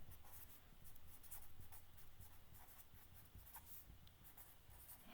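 Pencil or pen scratching across paper while a sentence is written by hand, a soft, steady run of quick strokes and short pauses, close and quiet, with no talking.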